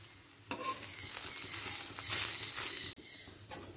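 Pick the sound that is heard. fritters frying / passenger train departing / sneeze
fritters frying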